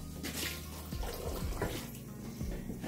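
Tap water runs steadily into an empty tomato tin while pumpkin soup is being made, a continuous close splashing with small clinks from the can.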